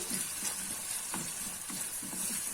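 Onions and tomatoes for an Egyptian omelette frying in a pan, a steady close sizzle with soft rhythmic stirring scrapes throughout, no talking.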